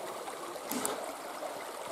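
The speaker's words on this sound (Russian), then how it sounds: "И такой напор воды идет." River water rushes steadily over a small rapid beside a fallen log, a continuous, moderately loud broadband rush with a brief splashy burst partway through.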